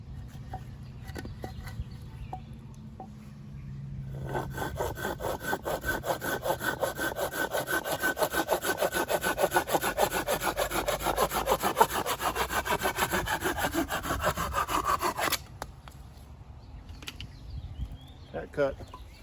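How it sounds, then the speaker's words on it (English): A Corona Razor Tooth 10-inch hand saw cuts freehand through a 2x4, a steady rapid back-and-forth rasp of teeth on wood lasting about eleven seconds, close and loud, with quieter handling noises before and after. "Whenever I freehand cut a 2x4 without putting a square line on it, I always like to see if I can cut it square"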